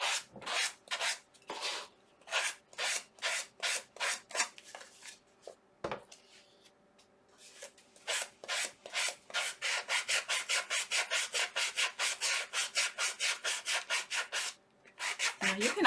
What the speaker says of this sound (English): Now you can also use regular sandpaper on this. You do not have to use a sanding block.